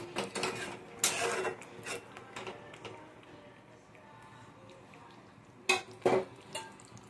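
A spoon stirs chicken in a pan, making bursts of scraping and clattering against the metal, grouped in quick clusters with quieter gaps between.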